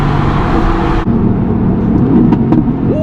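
The exhaust of a Mercedes AMG GT-C coupe roars loudly at high RPM, with a sharp cut near one second and a few brief pops after it.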